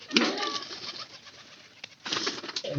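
Pigeons in a loft coo in low, throaty bursts close by, rising at the start and again near the end over a soft room background.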